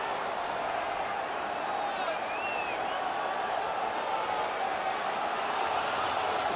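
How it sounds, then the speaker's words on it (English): Steady, dense arena crowd roar from an NHL 19 hockey game, celebrating just after a fight, holding level throughout with a few faint whistle-like tones above it. "The crowd is ecstatic."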